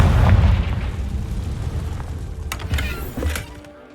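A Confringo blasting spell detonating in Hogwarts Legacy: a loud, close explosion with a deep boom at the start, followed by a rumbling decay and a few scattered cracks and crackles as it fades, with no talking.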